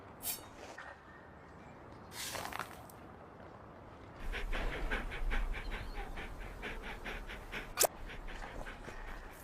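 A cartoon dog whimpers and pants in short bursts, with a sharp yelp near the end, over a soft background hum and no talking.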